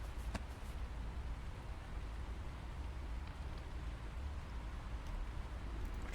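Steady, even rain hisses through a video game scene, a soft continuous wash of falling drops with no talk over it.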